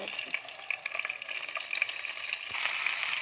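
Brinjal masala cooks in oil for a village-style oil brinjal sambar, a fairly soft bright sizzle with scattered crackles and spatters, close by, swelling slightly louder toward the end; no talking.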